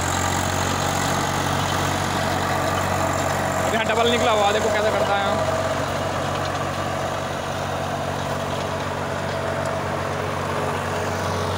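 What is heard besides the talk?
Swaraj 733 FE tractor engine running a rotavator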